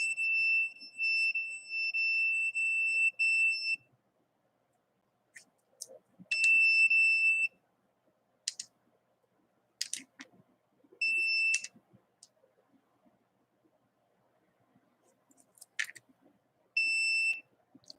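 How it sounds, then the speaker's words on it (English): Electronic gas detector alarm sounding in repeated beeping bursts of one to four seconds, separated by gaps with faint background noise and small clicks. "So the trigger for the alarm in this detector is 5."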